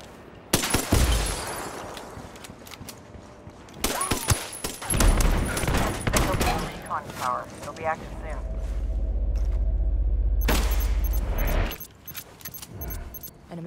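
Gunfire crackles in Ghost Recon Wildlands at an airbase, with loud bursts of rapid shots separated by quieter stretches, a sustained low rumble and metallic clinks.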